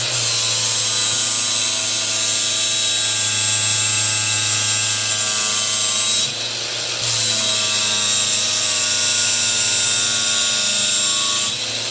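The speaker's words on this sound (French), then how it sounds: "je vais descendre des deux côtés avec la meuleuse" An angle grinder grinds steadily and loudly at the blade of a folding knife, a continuous high whine that pauses briefly twice during the cut and then resumes.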